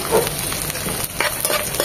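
Chopped onion hits a pan of frying garlic, giving a lively sizzle broken by a few scraping stir strokes, close and fairly loud, with no talking.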